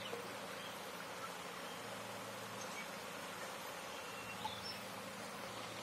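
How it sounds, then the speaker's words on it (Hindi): Apis cerana indica honeybees fly toward a hive frame, making a steady, soft buzzing hum that continues evenly throughout at a faint, distant level, with no talking. "देखो कैसे मधुमक्खी आ रही है"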